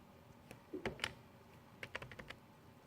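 Keys pressed on a handheld calculator keypad, a scattered run of soft, close clicks: two or three isolated taps followed by a quicker cluster of several presses, with no talking.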